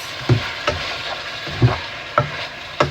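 Liver frying in a pan with tomato sauce, a steady sizzle broken by about five sharp scraping stirs at fairly even intervals, close and clear with no voices.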